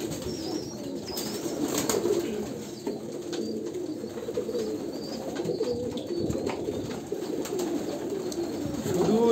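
An Andhra pure bloodline Kalanka pigeon coos in soft low repeated phrases amid faint wing rustles and background chirps, fairly close and quiet.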